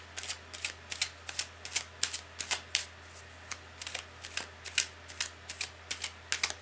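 A deck of tarot cards gets a brisk, close riffle shuffle: a rapid run of crisp flicks and snaps repeating steadily for several seconds over a faint low hum, with no voices.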